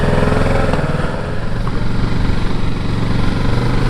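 A Kawasaki Ninja motorcycle engine running on the road, a loud, continuous, buzzing drone that holds steady throughout with no speech over it.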